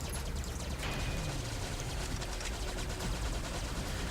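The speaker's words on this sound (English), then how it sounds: "Let's go ahead and activate some rapid fires here" Rapid-fire cannons in the space game Space Run, with a dense, continuous stream of fast shots layered over steady game sound, holding at an even level throughout.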